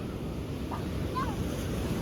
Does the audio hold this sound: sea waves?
yes